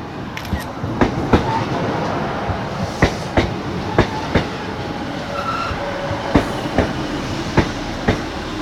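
A passenger train runs through Hykeham station, its wheels beating a regular clickety-clack over the rail joints under a loud, continuous rolling roar close by.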